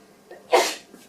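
A single sharp sneeze from a person nearby during a pottery bowl-decorating demonstration: a brief intake and then one loud, explosive burst that quickly fades.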